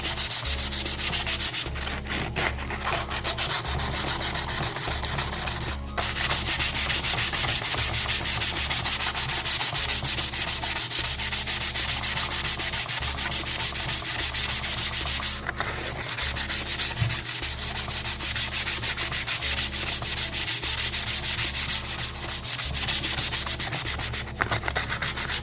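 Steady, loud rubbing of sandpaper smoothing truck parts for a 1998 OBS pickup, continuous strokes with brief pauses, close and alone with no talking.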